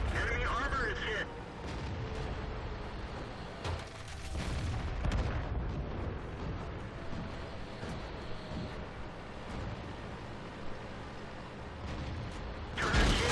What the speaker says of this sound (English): They've got artillery, so I got to keep on moving.